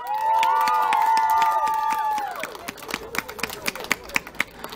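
A festival crowd at an open-air art fest in Myrhorod chants a name together in long sustained voices, then breaks into scattered, uneven clapping that peters out near the end.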